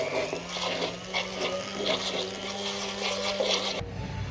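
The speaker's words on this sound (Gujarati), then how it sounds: "બ્લેન્ડરથી કરીશું જેથી ઝડપી થઈ જશે" Hand blender whirring through a mix of water, oil, baking soda and salt, a steady close motor drone with sloshing liquid for about four seconds before cutting off abruptly.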